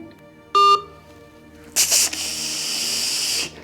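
A telephone line after a call is hung up: one short, loud electronic beep, then a stretch of steady hissing line noise with a sharper burst at its start. No one speaks.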